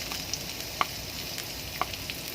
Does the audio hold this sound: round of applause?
no